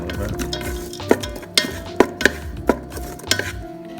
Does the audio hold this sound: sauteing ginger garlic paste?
yes